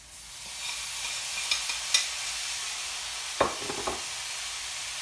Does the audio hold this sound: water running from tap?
no